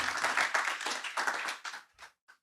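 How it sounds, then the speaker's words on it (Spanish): Congregation in a church bursting into applause, a dense patch of steady clapping that thins into a few scattered claps and then stops. "Un aplauso. Un aplauso."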